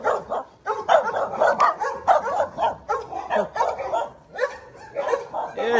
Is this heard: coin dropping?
no